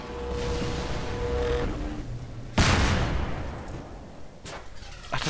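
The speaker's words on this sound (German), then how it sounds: "Ach, das ist eine Kanone." A cannon fires in Half-Life 2: Lost Coast, one sharp booming blast with a rumbling tail, heard over a low ambient game drone, followed by a quieter thud near the end.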